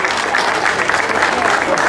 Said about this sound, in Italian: Una bella foto e un grande applauso.